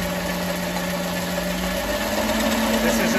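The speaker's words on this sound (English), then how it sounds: "You just increase the speed here and the motor will start spinning right away." An electric motor fitted to a converted Fiskars reel mower spins steadily at partial speed, giving a continuous droning hum with a constant whine and no pauses.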